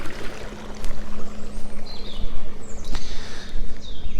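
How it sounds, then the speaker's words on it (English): A small waterfall in a Sussex bluebell woodland rushes and splashes close by, loud and continuous, with faint bird calls chirping over the flowing water. "a little waterfall right over this"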